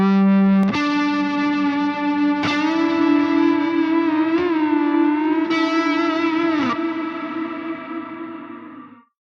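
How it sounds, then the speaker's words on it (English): A sustained electric lead guitar line with a few distinct picked notes, processed through a reverb plugin, each ringing out with a short, tight reverb tail before fading. "So that's a shorter reverb."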